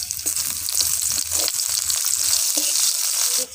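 Chopped onion hits hot mustard oil in a wok with whole spices, giving a loud, steady, bright sizzle that runs throughout with faint stirring scrapes beneath.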